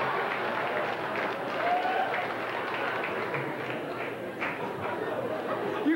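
A stand-up comedy audience gives a steady wash of applause and clapping mixed with crowd chatter, fairly loud and sustained throughout.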